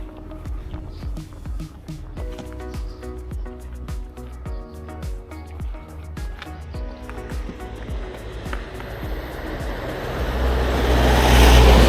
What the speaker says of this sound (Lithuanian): Atsargiai mašina atlėkė,